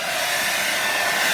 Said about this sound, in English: I might try turning my dryer down